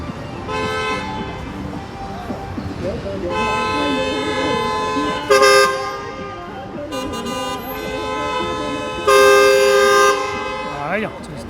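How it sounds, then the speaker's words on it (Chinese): Car horns sound repeatedly in traffic behind a car waiting to turn left: a long sustained blare, then two louder sharp toots that stand out over a continuous street background. "左拐的车不走，后面就按喇叭"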